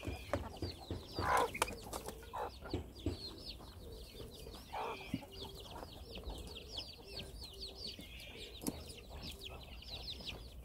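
A Korean native hen, mother of fifteen chicks, clucks repeatedly near rabbits in a farmyard, with bird calls and scattered crowing-like cries alongside steady outdoor chatter of other fowl at moderate distance.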